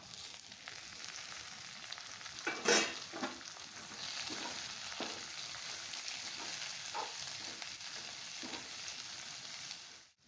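Bombay duck (bombil) fish dropped into a hot frying pan, a steady oily sizzle with a few sharper crackling bursts and stirring scrapes, close and continuous.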